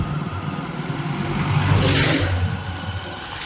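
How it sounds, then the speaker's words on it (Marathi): A Mahindra Sarpanch tractor's engine rumbles at a steady mid pitch on a road near Gangapur dam, swelling louder near the middle as if passing close, then easing back. "ट्रॅक्टर बाग मित्रांनो महिंद्राचा सरपंच असा ट्रॅक्टर आला आहे"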